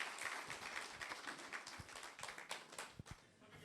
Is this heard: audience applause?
yes